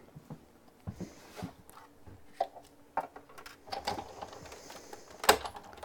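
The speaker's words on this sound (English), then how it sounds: "So let's stick this through the old die cutting machine." An old die cutting machine is cranked by hand, making a run of irregular close clicks, ratchets and small knocks over a quiet background, with one sharp snap near the end.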